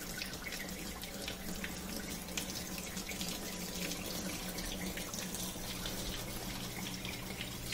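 Water from a portable dishwasher drains in a steady, fairly thin continuous flow, splashing and trickling into a sink at close range with no talking.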